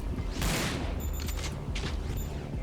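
Shotgun fire in the PS2 game Resident Evil: Dead Aim, a loud sharp blast near the start followed by further shots, with mechanical clicks and thuds in between, close and punchy.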